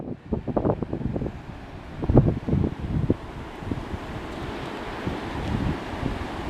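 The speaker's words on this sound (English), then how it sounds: "If it's not too windy, you should be able to hear the sea." Wind blowing across a coastal path among high dune grasses on the England Coast Path between Saltburn and Redcar, with a steady wash of sea surf beneath it and gusty wind buffeting the microphone throughout, no voices.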